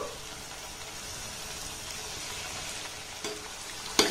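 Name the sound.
egg and flour snacks frying in oil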